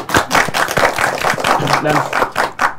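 A crowd claps in a dense, steady burst of applause that carries evenly through the whole stretch, close and fairly loud.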